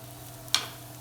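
Root vegetable fritters hit a hot pan with one sudden, bright sizzling burst that quickly fades into a soft, low frying hiss against quiet kitchen background.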